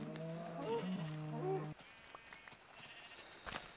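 Cows in the video game Minecraft moo in several overlapping, drawn-out calls that sound close and loud, followed by quieter game sounds.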